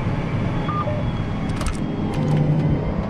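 A farm tractor turns around in a field during autumn tillage, with a steady low engine drone heard from the cab, a couple of faint tonal whines and brief metallic rattles partway through.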